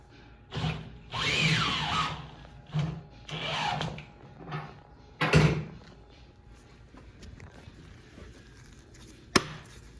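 Bolts being fastened as handlebars go back onto an Aprilia Tuono V4 motorcycle, several short bursts of ratcheting and power-tool whirring with clinks between, ending in one sharp metallic tap, close up.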